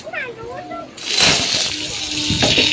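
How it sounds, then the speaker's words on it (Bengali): Mango pieces dropped into a pan of dal tempered with five-spice make a sudden wet splash and sloshing sizzle, after a voice is heard briefly. "এবার আমগুলো দিয়ে দেবো"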